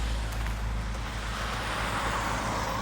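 A car pulling away on a road, a low engine rumble with steady road noise lasting a few seconds, fairly close and uninterrupted by voices.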